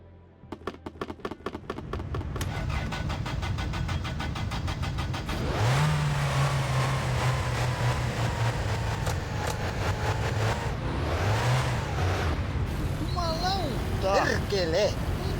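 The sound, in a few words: car driving across a lake in video game My Winter Car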